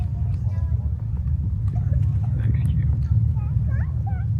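A Falcon 9 rocket in supersonic flight gives a distant, low, rolling rumble that carries steadily beneath people talking quietly nearby, with faint bird chirps over the top.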